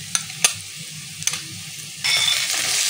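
Chopped onion with ginger garlic paste is stirred in a hot pan: a few sharp spatula taps against the pan, then a louder, steady sizzle that swells and carries on to the end.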